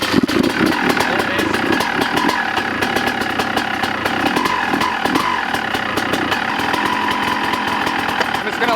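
A Honda CR250 two-stroke dirt bike with Pro 38 parts idles steadily just after a kick start, a loud, continuous buzzing engine close by with a slightly uneven, rattly beat throughout.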